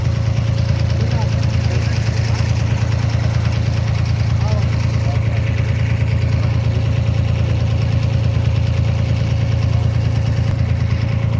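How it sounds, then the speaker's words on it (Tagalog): A small passenger boat's engine drones loudly and steadily throughout, a continuous mid-pitched mechanical rumble with no pauses or changes in pace. "Medyo maingay lang kasi dito yung makina ko."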